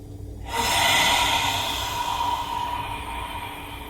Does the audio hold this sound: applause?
no